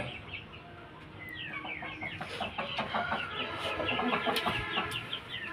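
Year-and-a-half-old Vilayati rooster crossed with Punjabi stock, Thai line, clucking and calling repeatedly in a loose, busy rhythm, fairly close and clear over faint background noise.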